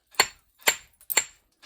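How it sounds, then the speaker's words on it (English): A steel hammer strikes a stone spall three or four times in slow succession, each hit a sharp, bright crack ringing briefly, close and loud with silence between blows and no talking. "Hit it with steel hammer."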